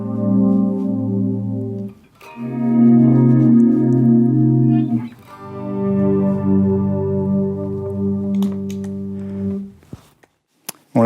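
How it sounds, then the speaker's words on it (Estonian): Electric guitar run through a chorus effect pedal, sustained chords with a shimmering, wavy modulation, played loud and alone in three strummed phrases before fading out. "Eelmise sajandi 80-ndatel oli väga populaarne efekt koorus, mis teeb sellist ilusat lainetavat heli."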